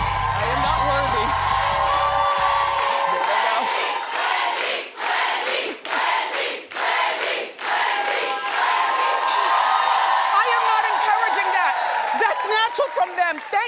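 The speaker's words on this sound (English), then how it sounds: "Now I can't disappoint at all with that cheer." A studio audience on a daytime talk show cheers and whoops loudly, the crowd noise swelling and dipping in waves, with a presenter talking over it.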